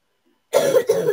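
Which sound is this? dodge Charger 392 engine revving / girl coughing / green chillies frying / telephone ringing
girl coughing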